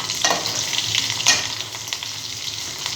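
Pieces of food sizzle and crackle steadily as they fry in hot oil. The hiss is loud and continuous, and a couple of sharper pops stand out, with no voices over it.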